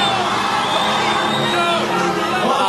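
Excited fans at Cannes whoop, yell and cheer together in a loud, unbroken roar, with shrill shouts riding over the dense crowd noise.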